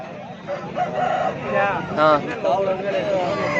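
A rooster crows with a drawn-out, wavering call amid the bustle of the Pileru poultry market on a Sunday. Nearby voices chatter continuously through and around the crow.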